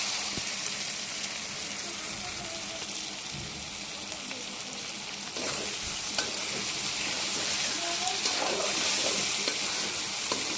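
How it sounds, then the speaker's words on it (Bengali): Pangas fish curry with onion and garlic sizzles and is stirred in a pan, producing a steady frying hiss with scraping stir noises and a slight rise in intensity partway through. "তরকারিটা একটু কষিয়ে নেব যত কষানো যাবে তরকারি ততই ভালো লাগবে"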